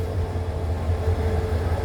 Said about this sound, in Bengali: এই যে ট্রেন চলে আসছে